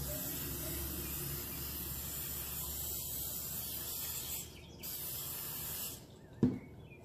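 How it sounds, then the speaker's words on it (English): A steady, soft hiss of a cooking spray can spraying chicken tenders for the air fryer runs for several seconds, pausing briefly, followed by a short clunk. "I will spray my chicken."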